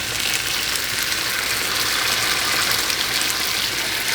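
A cooked hotdog set on a heated metal sizzling plate gives a steady, loud, hissing sizzle that holds evenly throughout with no talk.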